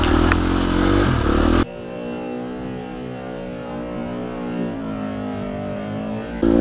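Husqvarna FE250 or TE250 enduro motorcycle on a very muddy, loose road, engine droning steadily at moderate revs close by, with a louder revving burst at the start and end.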